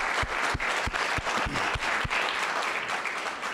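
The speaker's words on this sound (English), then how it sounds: "Judy Corbett and Alan Hirsch, I think are deserving of a round of applause for their" An indoor audience at a public forum lecture breaks into a full round of applause, dense and sustained, with a few sharper individual claps standing out near the front.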